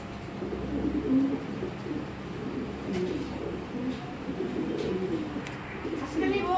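A tiger grizzle male racing pigeon coos in low, throaty bursts nearby, and someone talks over parts of the calling.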